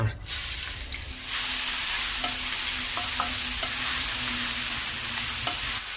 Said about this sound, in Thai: พอน้ำมันร้อนก็นำพริกที่เราปั่นเตรียมไว้ใส่ลงกระทะผัดค่ะ